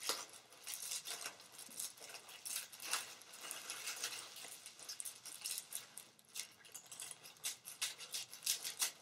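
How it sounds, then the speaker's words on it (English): Scissors cutting wrap for a bathroom gift basket, a steady run of close, soft snipping and rustling crinkles that goes on for several seconds with no talking. "I'm going to cut up and then I'm going to cut down."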